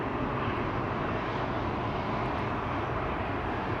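Helvetic Embraer E2 jet at Amsterdam Schiphol Airport, a steady broadband roar of engines at moderate distance, constant in level for the whole stretch with no voices.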